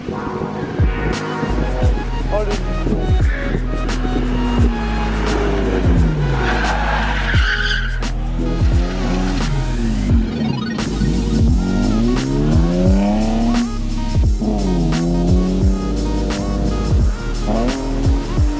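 BMW E36 drift car with a tuned exhaust, engine revving hard and tires squealing in long sliding bursts, loud and close throughout with repeated rising and falling engine pitch.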